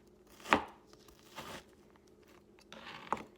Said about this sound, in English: I'm going to cut across, making little slices